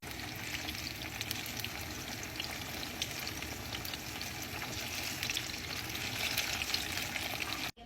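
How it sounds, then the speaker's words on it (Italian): Steady, dense crackling sizzle of eggplant slices frying in hot oil, continuous and close, with no talking. "l'ho fatta a fette e questa qua la vado a friggere"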